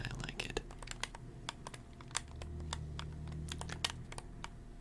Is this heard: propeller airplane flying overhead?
no